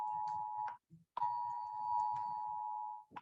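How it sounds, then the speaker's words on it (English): A civil flood warning alarm, set off by a storm, sounds as a steady electronic tone in long sustained pulses with a brief gap, fairly faint and alone. "It's alarm of flooding because we have right now a storm here."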